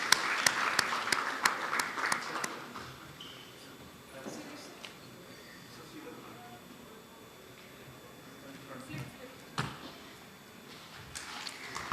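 Conference audience at a legal conclave applauding after a bulletin release, a short burst of clapping at the start that fades into quiet room murmur with a few scattered claps and sounds later.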